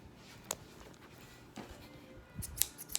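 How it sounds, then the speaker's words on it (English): A pair of fabric shears handled in a quiet room, giving a few faint, scattered metallic clicks and snips with light rustling between them. "I would also get fabric shears, which is to cut fabric with."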